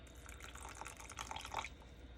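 Water drips and trickles while paint is being mixed, a few light splashy drips over a soft running-water background, close and fairly quiet.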